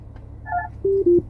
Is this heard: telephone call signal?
yes